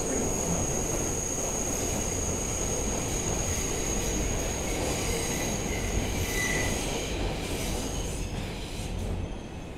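An R142 subway train on the 2 line rumbles along steadily with a high metallic whine and faint wheel squeal, loud and continuous with no talk.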